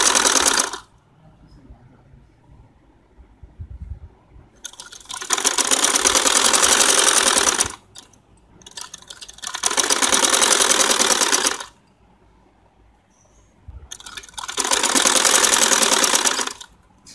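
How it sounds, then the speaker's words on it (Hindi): A sewing machine stitches a round gala neckline on a kameez, whirring loudly and steadily in three separate bursts of several seconds each, with quiet pauses between them and no talking. "मशीन पर इसकी सिलाई लगाएंगे"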